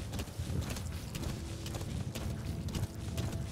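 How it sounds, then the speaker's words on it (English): A horse gallops in the Metal Gear Solid V: The Phantom Pain video game, a fast rhythmic clip-clop of hooves running on without a break, close and steady, with no talk. "So I think we're just gonna ride down, speed up the horse, okay. Can we gallop?"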